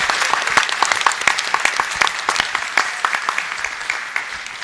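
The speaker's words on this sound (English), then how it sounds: "can we give a round of applause to our sign language interpreter?" Applause from a community meeting crowd on Thomas Fire updates, honoring the sign language interpreter; many hands clap in a dense, steady burst filling the room, with no talk over it.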